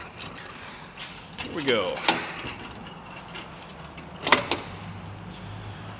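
Engine cowling panel on a small aircraft being opened during a preflight inspection, giving a couple of sharp metallic clicks and a latch clatter close by, with a brief spoken remark.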